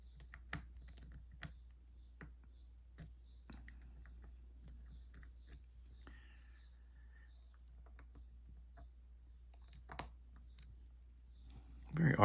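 A Kensington laptop cable lock being picked gives faint, sparse metallic clicks and small scrapes over near-silence, with a louder rustle at the very end.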